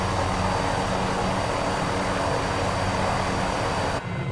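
Cowansim M500E helicopter in Microsoft Flight Simulator: a loud, steady turbine and rotor drone fills the whole stretch, then drops off abruptly near the end.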